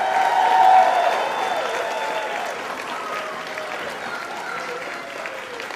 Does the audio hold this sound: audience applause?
yes